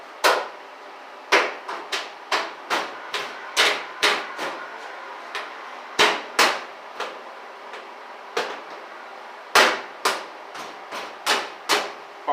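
Hammer taps seating the rear wheel radius trim on a 1955 Chevy gasser build: around twenty sharp, close metallic knocks in an uneven rhythm, sometimes in quick pairs, with no talking.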